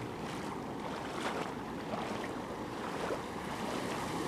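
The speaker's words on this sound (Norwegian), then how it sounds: "Ja, her kommer havet" Ocean surf rolls onto the beach at Tamarindo, Costa Rica, a popular surf spot, heard as a continuous broad wash of breaking waves mixed with wind buffeting the microphone.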